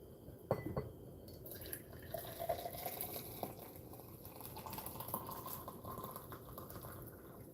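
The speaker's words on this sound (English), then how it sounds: "I'm gonna pour this scalding hot water into the glass." Scalding hot water is poured into a glass, a faint continuous splashing and trickling with a small clink near the start.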